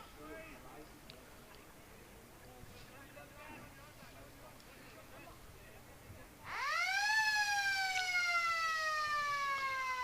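A loud siren wails to signal half-time at a country Australian rules football match between the Lions and Swans, rising sharply and then holding a steady tone after quieter crowd and commentary murmur.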